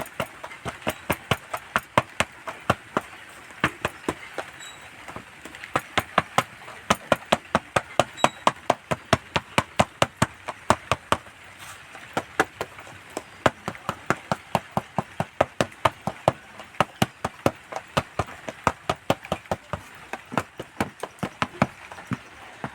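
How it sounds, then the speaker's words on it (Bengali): A container filled with ripe palm and chhena sandesh mixture being tapped repeatedly on a surface to settle it, a long run of rapid sharp knocks in uneven bursts, close and fairly loud. "এবার কোটোটা এইভাবে একটু ঘা মেরে গেঁথে নেব।"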